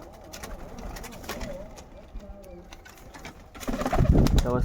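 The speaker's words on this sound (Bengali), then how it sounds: "তোমাদেরকে একটা সিঙ্গেল নর পায়রা দেখাচ্ছি।" A Kaldom pigeon coos softly up close in a short, wavering phrase over a steady background. A sudden burst of louder rustling closes the moment.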